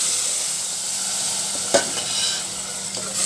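Yogurt poured into a pan of fried green chillies and garlic sizzles steadily with a bright frying hiss, and brief stirring scrapes come through in the middle. The sound is close, with no talking.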